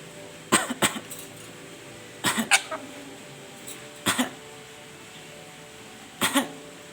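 A black-capped lory parrot imitates a human cough, giving short, raspy bursts that mostly come in pairs. The bursts are spaced a second or more apart, are fairly close and loud, and stand out against a quiet background.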